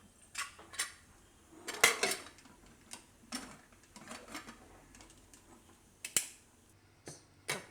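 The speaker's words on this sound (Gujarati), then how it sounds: "કુકરનું ઢાંકણ બંધ કરી દે" The metal lid of a pressure cooker is shut in a home kitchen during the cooking of raw papaya halwa, giving a series of close, sharp clanks and clicks spread irregularly over several seconds, with no talking.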